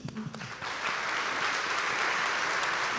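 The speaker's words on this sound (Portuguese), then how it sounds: "pedir uma salva de palmas para o Danilo Candombi" Steady applause from an audience at a literary festival, starting with a few claps and quickly swelling into continuous clapping that holds at an even level.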